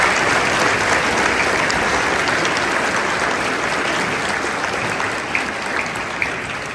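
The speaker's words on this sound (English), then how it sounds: "how about a round of applause for all of our helpers, the Boy Scouts and our FFA." A large crowd at a school district Veterans Day ceremony applauds Boy Scouts and FFA helpers, a loud, dense roar of clapping that holds steady throughout and tapers slightly near the end.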